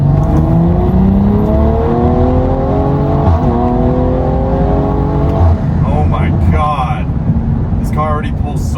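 A BMW M340i running an off-the-shelf E30 tune and downpipe accelerates hard, its engine note climbing steadily in a loud, continuous rising drone that builds through the pull.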